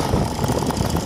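A Motobécane moped engine idles steadily up close, a constant buzzing rumble with slight unevenness, settling back down to a low, even speed.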